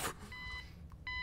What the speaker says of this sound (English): Her mouth was making a sound because she ate the fucking... alarm clock